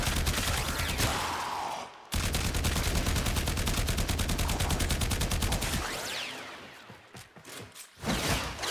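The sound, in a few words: gunfire from shooting enemies in the video game Warframe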